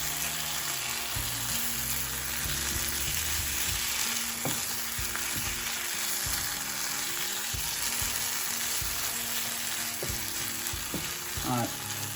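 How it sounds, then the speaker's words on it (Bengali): Prawns frying in oil while being slowly mixed with spices, giving a dense, continuous sizzle throughout with occasional soft scrapes and stirring clinks, close up and with no voices. "এখন ধীরে ধীরে এই স্পাইসের সাথে মিক্স করে দিব।"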